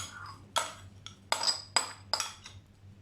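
Chopped tomato, onion, green chilli, coriander, potatoes and black chickpeas for chaat are mixed in a bowl with a spoon, giving several separate clinks and scrapes, quiet and close.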